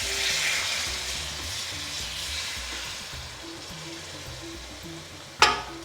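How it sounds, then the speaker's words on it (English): Base gravy ladled into a hot pan for a tofu tikka rezala, a loud frying hiss that bursts up at first and settles into a steady bubbling sizzle, with a sharp metallic clink near the end. "now we're going to add our first ladle of base gravy"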